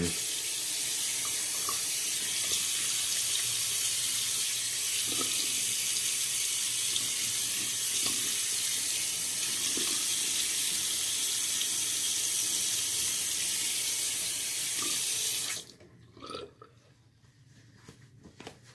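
A tap runs steadily into a bathroom sink during a wet shave with a Karve CB razor, a continuous close splashing rush that cuts off abruptly near the end, leaving faint handling sounds.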